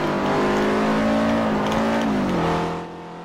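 A Ferrari race car in Forza Motosport 4 drones at high revs, a loud steady engine tone that shifts pitch as the car accelerates, then fades slightly near the end.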